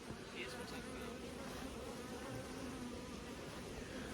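Honey bees buzzing around the hive colonies, a dense continuous drone of many bees with occasional louder passes close by, faint and steady.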